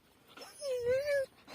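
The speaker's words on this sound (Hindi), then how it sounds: "और ये रहा अपना लालू कुत्ता" A pet dog named Lalu whimpers in one drawn-out, wavering whine lasting about half a second, close by and moderately loud, with faint indoor background noise around it.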